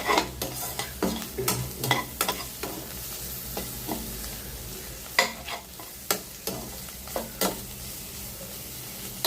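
Bitter gourd, ivy gourd and capsicum sizzle steadily in a hot pan while a utensil scrapes and stirs in irregular bursts, close up, with no talking.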